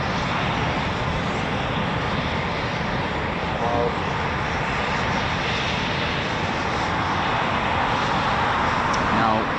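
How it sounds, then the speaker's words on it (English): Eurofighter Typhoon FGR4 jet at RAF Coningsby returning to the airfield, a continuous broad engine roar filling the scene at steady loudness throughout, with voices faintly beneath it. "Typhoon's coming back."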